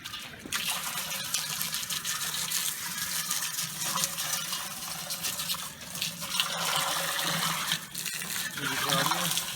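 Chilled water runs steadily during a home beer brew day, a continuous close gushing flow like a tap filling a vessel, with brief dips and no talk over it.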